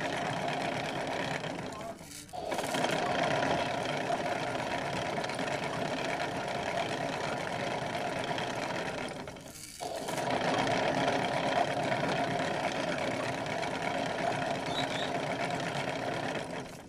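A kid's toy washing machine spinning fast with a steady motorized whir and hum, loud and continuous, with two brief dips where it pauses.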